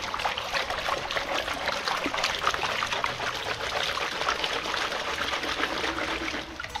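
Water swishes and trickles steadily in a gold pan as sediment is washed and swirled during panning, a continuous close liquid sloshing with no speech.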